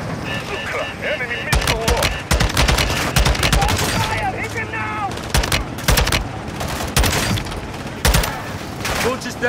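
Dense rapid gunfire and explosive bursts from the video game Modern Warfare II crackle loudly in repeated volleys, with shouted voices mixed into the combat.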